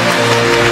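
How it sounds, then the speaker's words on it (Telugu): A church congregation clapping during a Christmas sermon, a dense, steady wash of loud applause from many hands, continuous throughout the short stretch. "గట్టిగా చప్పట్లు కొడుతూ యేసయ్యను గట్టిగా కొట్టాలి చప్పట్లు"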